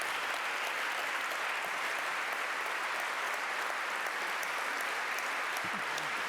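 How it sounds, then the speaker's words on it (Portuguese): Audience applause for award nominees at a young entrepreneur prize ceremony, a steady, dense wash of many hands clapping that holds evenly throughout without pause. "todos merecem uma salva de palmas"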